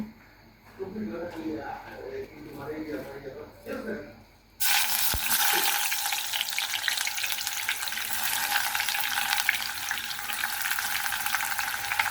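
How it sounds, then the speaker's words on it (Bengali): Onions dropped into hot oil for frying set off a sudden loud, steady sizzle that continues without a break, after someone speaks over a quiet kitchen. "এখন কিছুটা পেঁয়াজের বেরেস্তা করে নেব।"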